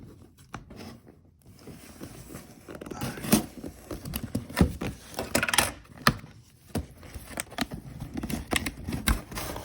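Scissors snipping through the tape and cardboard of a Threadbeast clothing subscription package, giving a run of close, crisp cuts and rustles with no talking.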